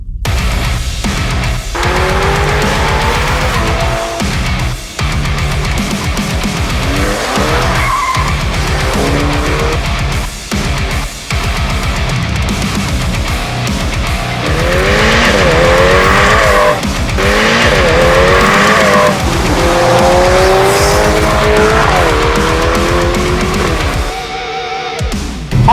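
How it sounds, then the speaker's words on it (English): A red Ferrari Portofino convertible driven with the top down on a road, its engine loud and close, repeatedly revving up through the gears with rising and falling pitch, tires squealing in places. "driving a red Ferrari with the top down. This is the Ferrari Portofino"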